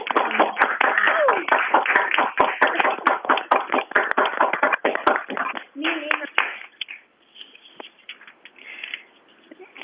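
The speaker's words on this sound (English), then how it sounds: "if people would like to unmute and clap for a moment" Scattered, uneven claps from participants in an online school board meeting come through compressed call audio, dense at first and then thinning to a few sparse claps, with voices talking underneath.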